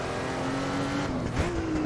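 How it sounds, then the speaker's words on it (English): A Porsche 935 Moby Dick race car in the Assetto Corsa racing game holds a steady, loud engine drone at near-constant revs, with a brief shift in pitch near the end and a faint tire scrub underneath. "It's the car that I'm driving for fun to showcase a classic Porsche"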